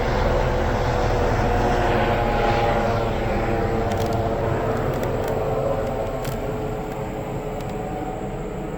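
A helicopter flying overhead above a yard during tree clearing, heard as a loud, steady broadband engine roar that holds level and then eases off slightly toward the end.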